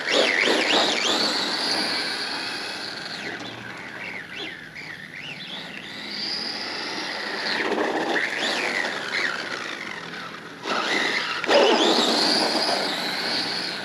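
A T2M Puncher pit bike fitted with a reinforced transmission accelerates hard on gravel, its high-pitched engine whining and rising through the revs continuously, loud and near, with a brief drop in sound before it surges again.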